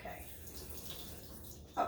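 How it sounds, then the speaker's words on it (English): Water running from a tap while a hand is rinsed, a faint, steady soft hiss that swells slightly at the end, with low talk mixed in. "Let me rinse my hand here."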